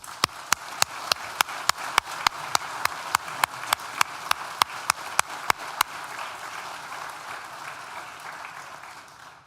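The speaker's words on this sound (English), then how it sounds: "Please join me in thanking them with a well-deserved round of applause." Applause at a university graduation ceremony: a soft wash of clapping from the hall with sharp, evenly spaced claps close by, which stop after about six seconds as the clapping fades away.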